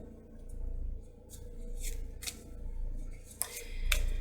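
Tarot cards are shuffled by hand in quiet, brief riffling bursts at an uneven pace, soft and close against a low background hum.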